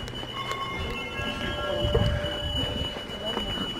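A train at a station rumbles and hums steadily, with faint metallic squeal tones and a brief swell in the middle, under background crowd noise.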